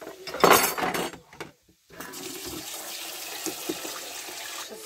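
Water runs from a kitchen tap while rice is being cooked on vegetable oil, a steady broadband rush following a few louder clatters of dishes and a brief pause.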